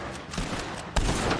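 Gunfire in the Red Dead Redemption 2 video game: a dense burst of shots under game noise, with a sharper, louder report about a second in.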